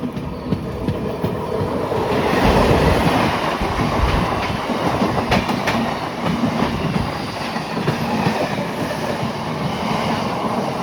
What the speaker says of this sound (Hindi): उधर से कोई लोकल ट्रेन आ रही है